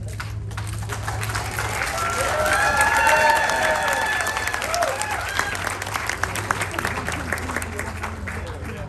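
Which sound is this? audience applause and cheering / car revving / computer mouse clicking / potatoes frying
audience applause and cheering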